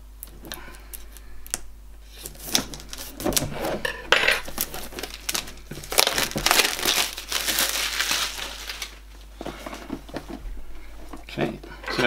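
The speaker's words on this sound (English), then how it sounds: "That one's got this cellophane that you always get on phones and other kind of packages." Cellophane wrapping on a boxed water flosser crinkles and rustles in bursts as the package is opened, with soft scraping and handling noises and a little talk in between.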